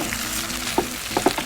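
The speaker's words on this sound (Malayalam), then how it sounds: "ആ ബട്ടർ നമ്മളത് ഒന്ന് ഫ്രൈ ആയി വരുമ്പോഴാണ് ബട്ടർ ഇട്ട് കൊടുക്കുക" Biryani masala fries with butter in a pan, giving a soft continuous sizzle broken by a few short, sharp crackles and pops near the end.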